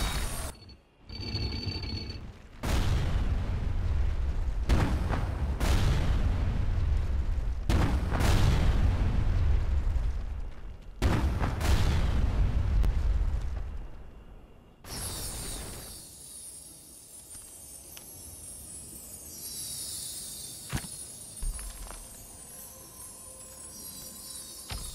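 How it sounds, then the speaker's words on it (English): Several heavy booming blasts of cannon fire in the video game BattleForge in quick succession, loud and rumbling, followed by a quieter stretch of mechanical clanks and distant bangs. "Silence that cannon."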